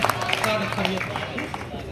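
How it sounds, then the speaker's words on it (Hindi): Audience clapping at a Hindi poetry recital, a dense, steady patter of many hands close by with crowd murmur mixed in. "एक बार तालियां बजा करके अनुमति दें"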